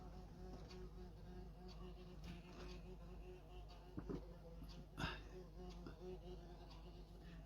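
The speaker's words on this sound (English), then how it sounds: "Getting a little bit nervous about this wasp because it is quite a big one." A large wasp buzzes steadily inside a greenhouse full of seedlings, a close, continuous drone with a couple of louder passes as it flies near.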